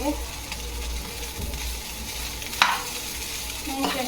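Fried rice being stirred in a pan, with a soft, steady frying sizzle and a faint scrape of a utensil partway through, close and moderately quiet, with no talking.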